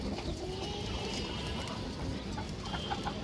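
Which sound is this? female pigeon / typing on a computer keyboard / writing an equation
female pigeon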